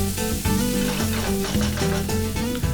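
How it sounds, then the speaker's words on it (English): Chopped tomato and onion fry in a pan for Goan pork sausage momos, giving a steady close sizzle beneath continuous tonal background music. "Then add 1 tomato chopped and fry this until it is soft."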